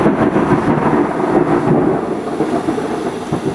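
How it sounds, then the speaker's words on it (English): A lightning storm rumbles with steady, low, rolling thunder that stays loud and continuous throughout, with no other sounds on top. "and that's thunder."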